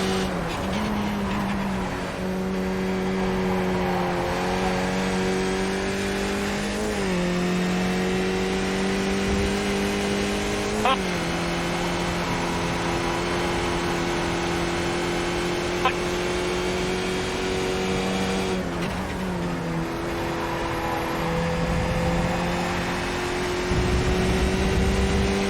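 A race car in a racing video game at Road America holds near full throttle, a loud, continuous high-pitched engine drone with brief dips and pitch steps at gear changes and lift points.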